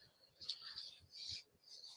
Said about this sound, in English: You can hear birds singing.